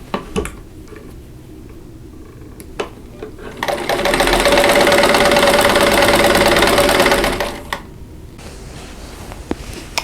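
A sewing machine stitches a quilt block seam in one loud, steady, whirring run of about four seconds, framed by quieter clicks and handling noises before and after.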